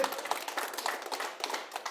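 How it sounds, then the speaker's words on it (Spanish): Applause from an audience honoring a child, a dense patter of many hands clapping steadily and fairly close for a couple of seconds. "Muchos aplausos para Ángel."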